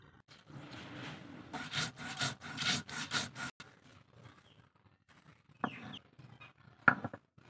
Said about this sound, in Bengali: এখন এই যে একটা আতপ চাল বেটে নিব